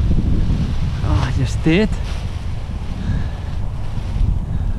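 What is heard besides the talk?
strong gusty Santa Ana wind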